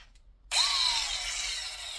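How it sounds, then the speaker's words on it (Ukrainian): A cordless Kuang Tian 16.8V mini angle grinder with a 76mm disc whirs to life abruptly and keeps running at a steady high-pitched whine, close up, with no talking. "ось такі невеликі міні-болгарки китайського виробника"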